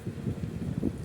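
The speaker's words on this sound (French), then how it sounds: "je sais pas si avec le vent vous allez m'entendre" Low, blustery wind buffeting the microphone while riding outdoors at night, a steady rumbling roar with gusty swells throughout.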